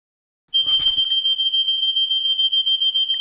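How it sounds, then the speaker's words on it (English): A fire alarm sounds suddenly after a brief silence. It is a loud, piercing, continuous high tone with rapid pulses, and a short rattle is heard as it starts. "Oh, fire alarm."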